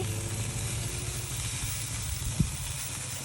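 Food sizzles on an outdoor grill in a steady, fairly loud hiss with a low rumble underneath and one brief knock partway through. No one speaks.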